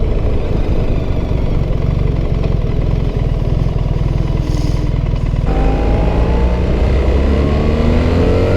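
A BMW R1300GS motorcycle fitted with an Akrapovic exhaust runs at low revs while riding, its engine rumbling loud and steady with a slight change in pitch partway through.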